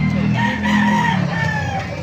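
A loud, close crow from a caged rooster at a market stretching out over two seconds, with other fowl calling faintly behind it.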